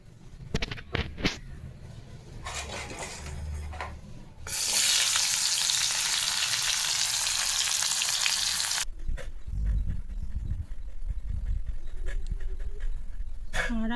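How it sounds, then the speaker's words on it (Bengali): Bitter gourd frying in a pan, a loud steady sizzle that bursts in after a few seconds of quiet kitchen clatter and holds for several seconds before dropping back to stirring and handling noises. "উচ্ছেটা ভেজে নিই।"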